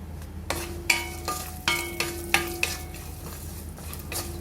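Small pieces of dried coconut roast in a pan while a spoon stirs them, giving several clinks and scrapes over a soft, steady background hiss.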